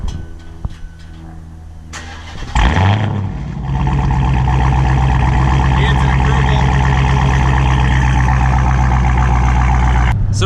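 A Dodge Hellcat with a muffler delete starts up after a few quiet clicks, then settles into a loud, deep, rumbling exhaust idle that holds steady close by.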